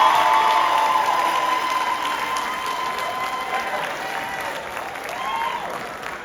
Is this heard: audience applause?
yes